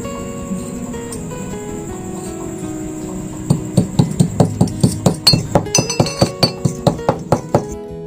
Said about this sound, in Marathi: ओवा आणि जिरे मी ठेचून घेते